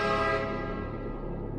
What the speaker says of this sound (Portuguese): Naquele momento, ouvi uma buzina de carro